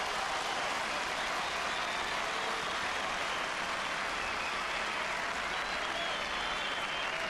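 Tennis crowd at the Roland Garros 2000 first-round match applauding Andre Agassi, a steady, dense wash of clapping that holds unbroken and fairly distant for the whole stretch, with no pause or swell.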